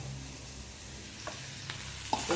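Bitter gourd pieces frying in a small amount of oil make a steady, quiet sizzling hiss with a few faint crackles and pops toward the end, with no talking.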